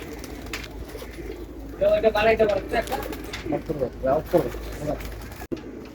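Kalijira pigeons cooing close by in a series of soft, throaty calls over a faint background, with a voice talking intermittently.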